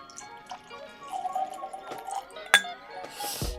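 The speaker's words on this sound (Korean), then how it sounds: "21년산도 그럼 따라볼게요." 21-year Scotch Blue whisky poured from a stoppered bottle into a glass, with a soft liquid trickle, a sharp glass clink midway and a louder splashing gush at the end, close and fairly quiet.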